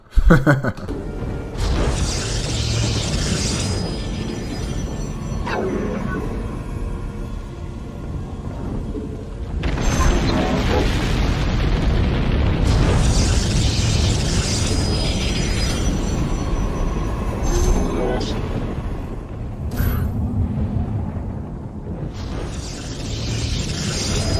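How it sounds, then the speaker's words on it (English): Heavy energy weapons firing in a StarCraft 2 Protoss battle: loud rumbling blasts and booming impacts come in repeated waves, with bright crackling bursts over a dense low roar that swells and recedes across the scene. "these proton cannons are firing on the Colossus"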